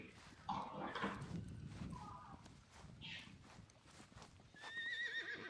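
A horse walking with its gait, giving soft irregular hoof clip-clops, with a whinny-like call and squeaky tones near the end, all faint and set against low background noise.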